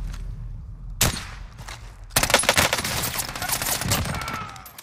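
Call of Duty Warzone gunfire: a single sharp shot, then after a short pause a sustained stretch of rapid, loud shots that runs to the end.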